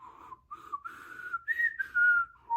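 A person whistles a short tune alone, imitating the wolf's whistle from Puss in Boots: The Last Wish, a series of clear sliding notes, one voice imitating a melodic whistle up close.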